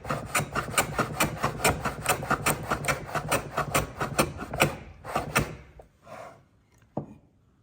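Hand plane shaving the end grain of a timber frame piece in a carpentry workshop, a rapid run of rhythmic rasping strokes up close that slows to a few scattered scrapes and a knock.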